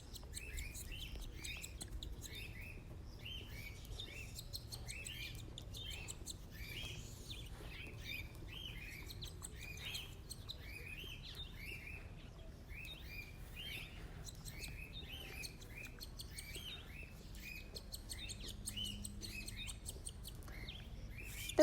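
A cockatiel chirps in quick, repeated high tweets, faint and steady through a long quiet stretch, with no voices.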